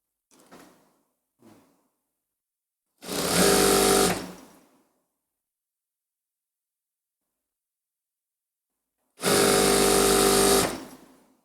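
A sewing machine stitches the side seam of a kurti in two loud bursts of about a second each, separated by a long silence, with faint soft handling noises at the start.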